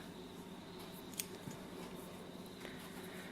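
Scissors snip through the loose end of yarn on a crocheted flower, one faint, brief cut heard close up in a quiet room, with a few softer rustles around it.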